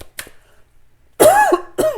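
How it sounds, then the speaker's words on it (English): A couple of short coughs, then a louder, raspy cough burst followed by another, close up with silence between. "Haven't had one of these coughing attacks in a while."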